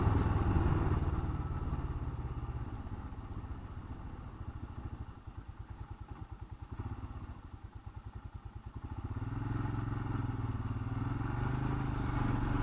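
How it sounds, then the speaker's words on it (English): A Royal Enfield Himalayan motorcycle engine, a 2021 model, running steadily in fourth gear at about 30 mph, a continuous near, loud thrum with a rhythmic pulsing beat that dips slightly mid-way, with no talk over it. "So it's certainly quite happy to sit in fourth gear at 30 mile an hour."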